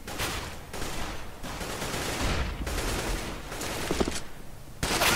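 AK rifle fire in the shooter Counter-Strike: Global Offensive comes as several sustained bursts of rapid automatic shots, loud and close, with no talking over them.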